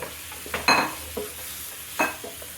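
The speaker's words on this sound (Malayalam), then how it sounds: "അതിലേക്ക് ഫ്രൈ ചെയ്ത് വെച്ച് ചിക്കൻ ചേർത്ത് കൊടുക്കുക" Fried chicken pieces sizzling in a masala pan for Kerala-style chicken ghee roast, a low steady sizzle broken by a few sharp clinks and scrapes of a spoon stirring, close and fairly quiet, no voices.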